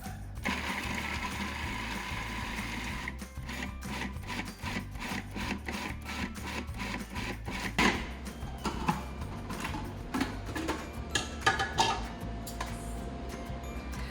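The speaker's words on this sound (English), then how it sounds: "I'm going to take the walnuts and put them in the food processor and pulse it a few times until I get the texture of basically ground beef" A food processor pulses walnuts with a string of short, sharp mechanical bursts, a rapid rattling chop that starts and stops repeatedly, close and fairly loud, with no talking.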